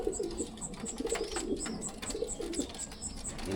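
Racing pigeons coo softly in a training box, repeated low burbling calls close by, with faint higher chirps and rustles scattered across the short stretch.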